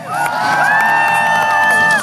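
A large crowd at a BMX bike stunt show at the Texas State Fair cheers and whoops loudly and steadily, with children shouting among the roar throughout.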